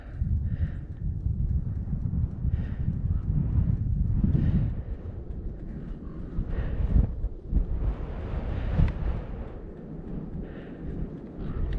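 Strong wind buffets a drone pilot's microphone outdoors, loud uneven low-frequency rumbling and thumping gusts that swell and fade throughout with no talking.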